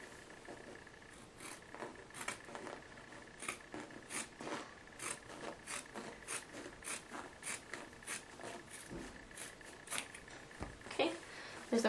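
Scissors snip steadily through heavy denim of cargo shorts, a fairly even run of short crisp cuts at close range with a faint background hum and a brief louder crunch near the end.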